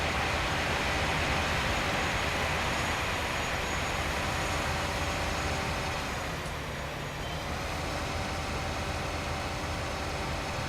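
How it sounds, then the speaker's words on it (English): A train in the Farming Simulator 19 farming game rattles along steadily, a continuous broadband rumble and clatter that stays loud and even throughout with no talk. "Trains do rattle once they get going."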